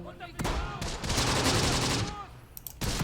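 Gunfire in the World War II strategy game Close Combat: The Bloody First, a loud sustained fusillade of rifle and machine-gun shots with bursts that start and stop.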